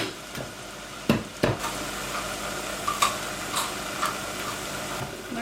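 Onions and vegetables sizzle quietly in a covered pot, with a few sharp clicks and knocks of the lid or utensils over the gentle frying hiss.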